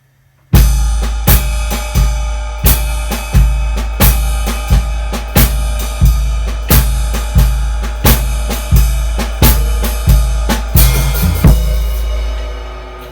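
A jazz drum kit plays a slow, steady groove with regular beats and shimmering cymbals, loud and close, with no voices.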